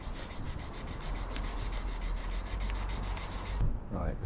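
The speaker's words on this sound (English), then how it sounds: "so that's been sanded back." Car bodywork on a Rover 75 panel is sanded by hand with rapid, rhythmic back-and-forth rasping strokes, close and steady, stopping abruptly near the end.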